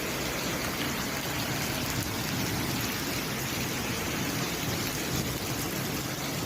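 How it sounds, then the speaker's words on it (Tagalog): Heavy rain mixed with hail pours down in Sharjah, UAE, a loud, dense, steady hiss of drops pattering on surfaces that continues unbroken throughout. "Ang lakas po ng ulan, oh,"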